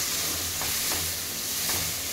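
Coriander powder, turmeric and other spices are stirred in a hot pan for restaurant-style palak paneer, giving a steady sizzle with soft repeated scraping strokes.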